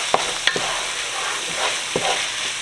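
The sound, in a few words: mushrooms frying with ground beef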